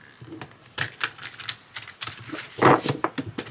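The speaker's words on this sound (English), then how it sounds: "these actually shuffle nicely. They don't stick together." Cards are shuffled in quick, irregular riffles and slaps, with soft papery flutters and taps close up.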